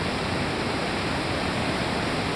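A large waterfall, swollen after days of rain, roars in a steady, dense broadband rush with no breaks, close and continuous throughout.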